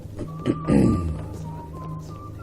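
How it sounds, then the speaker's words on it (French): A kettle whistles inside the stealth video game Thief 2, holding a thin, steady tone through the whole stretch, faint beneath a dull thump and low background rumble. "Une bouilloire siffle, ouais, c'est ça."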